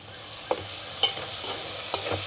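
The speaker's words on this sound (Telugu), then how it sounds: "బాగా తిప్పుకోవాలి." Curry leaves and spice paste frying in a pan for mutton curry, stirred with a spoon: a steady soft sizzle with a few sharp scraping clicks from the stirring, close up, with no talking.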